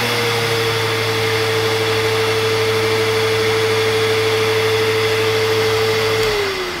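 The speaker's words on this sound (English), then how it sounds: "you are going to hear the real sound of the machine" A Sanitaire Force SC5745 bagless commercial upright vacuum runs with a loud, steady motor whine and airflow roar that holds evenly for several seconds, then dips in pitch as it begins to wind down at the end.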